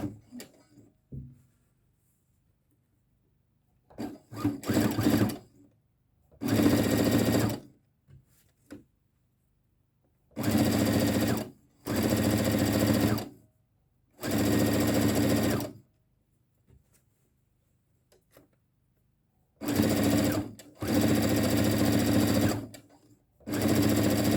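A sewing machine stitching around a wide shirt neckline runs in several loud, buzzing bursts of a second or two each, separated by near silence as the fabric is repositioned.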